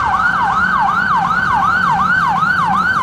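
Cartoon emergency vehicles, an ambulance and police car, race out with a loud, continuous wailing siren whose rising-and-falling pitch repeats in a steady fast cycle over low traffic rumble, with no talking.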